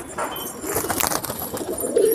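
A pigeon with clipped wings coos softly from a perch overhead, a low burbling call that swells near the end, heard over faint background noise.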